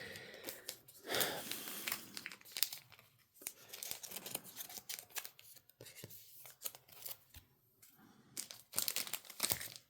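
Yu-Gi-Oh cards are pushed into plastic card sleeves, giving faint, close crinkling and rustling bursts in an irregular rhythm with quiet breathing between them.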